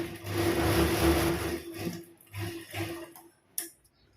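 A sewing machine runs a burst of stitches along the corner of a kurti, whirring steadily for about two seconds, then stopping and restarting in shorter runs with clicks between them.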